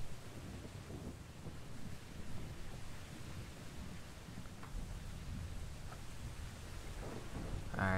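A steady, dense wash of rain and wind from a Minecraft thunderstorm with a localized weather mod fills the scene, with soft rumbles of thunder low underneath and no voices.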